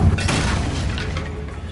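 A short, heavy boom bursts and rumbles away as the Confringo fire spell explodes in a Harry Potter video game, with a crackling tail fading over under two seconds.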